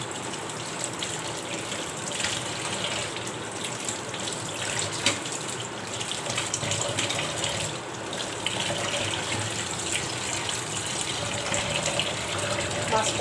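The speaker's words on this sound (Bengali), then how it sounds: "এই মাছটাকে ধুচ্ছি।" Tap water runs steadily into a sink as hilsa fish is rinsed in a home kitchen, a continuous close gushing splash with no pauses.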